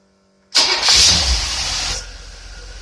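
Engine fitted with a rebuilt two-barrel marine carburetor, choke on in cold weather, cranking and catching abruptly, roaring loudly up close for about a second and a half, then settling to a lower steady idle.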